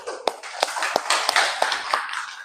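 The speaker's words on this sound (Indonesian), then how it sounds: "Tepuk tangan dulu dong semua." A small classroom group claps together, sharp individual claps standing out at an irregular beat over a lighter patter of hands, close and fairly loud for a couple of seconds.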